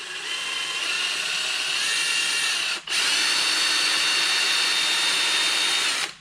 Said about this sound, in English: So we're going to go ahead and drill that out.